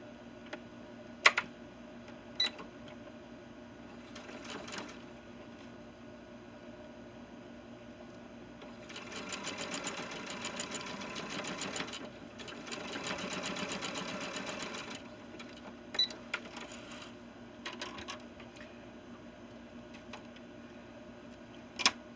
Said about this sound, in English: we're going to go ahead and sew the front to the back with right sides together